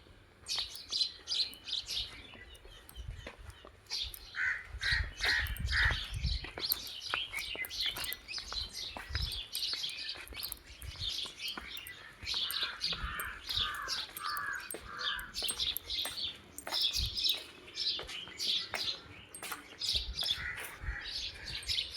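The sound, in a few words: crows and birds calling outdoors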